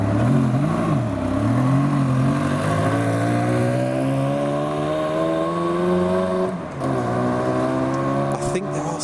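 Ferrari Challenge Stradale pulling away past crowds at a Porsche event, a loud engine note rising in pitch as it accelerates, with a brief gear change and people talking nearby.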